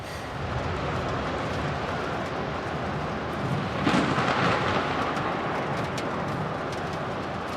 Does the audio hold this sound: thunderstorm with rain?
yes